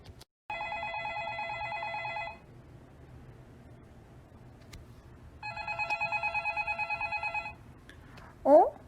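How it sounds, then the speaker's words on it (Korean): A telephone bell rings in two long trilling bursts separated by a pause, followed by a brief electronic chirp. "전화가 오고 있어요."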